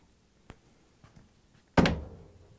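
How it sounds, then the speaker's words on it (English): A Samsung dryer door swings shut with a single solid thunk near the mic, preceded by a few faint taps from reassembly, its thud decaying over about a second. "After that, we can close the door."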